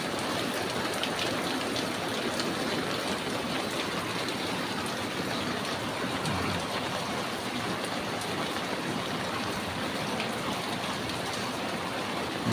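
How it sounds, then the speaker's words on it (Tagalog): Heavy rain pours down steadily in a barangay neighborhood, a dense, loud, unbroken hiss of drops striking surfaces nearby, with no talking throughout. "Ayan, lakas ang ulan."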